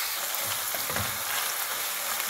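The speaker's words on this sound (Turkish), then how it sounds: "Bu arada 300 gram kıymamı tavama aldım, ateşe koydum." Minced meat sizzles in oil in a frying pan on the stove, a dense steady crackle with soft stirring scrapes, close and without talk.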